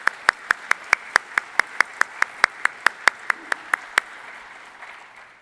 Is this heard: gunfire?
no